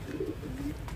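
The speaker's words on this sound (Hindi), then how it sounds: "ये है कबूतर" A white pigeon kept on a rooftop gives a soft, low cooing call, two short rolling coos close to the microphone, with no talk over it.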